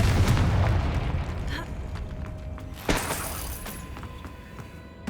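A fire spell detonating in the Hogwarts Legacy game, a sharp booming blast near the three-second mark rising out of a rumbling low background of game effects and music.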